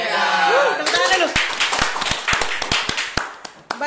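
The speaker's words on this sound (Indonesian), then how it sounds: "Tepuk tangan dulu." Scattered hand claps ring out sharply one after another in a small room, a few people clapping briefly at the start of a podcast, after a short stretch of talk at the opening.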